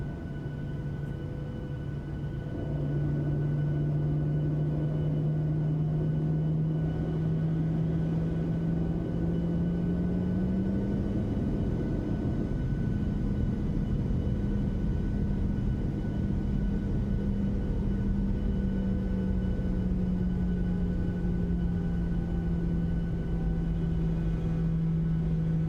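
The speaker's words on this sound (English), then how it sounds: "we're gonna go ahead and listen to that beautiful spool up" PMDG 737-700 jet engines in a flight simulator spool up from a low steady rumble to a louder rising whine around midway, then hold at a sustained, slowly shifting hum with no talking.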